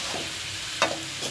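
Pieces of papaya fry in a pan with a continuous soft sizzle, broken by a sharp scrape of a spatula stirring them partway through.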